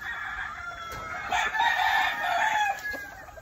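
A golden boy sweater gamefowl rooster gives one full, close, loud crow lasting a few seconds, with faint farmyard sounds behind it.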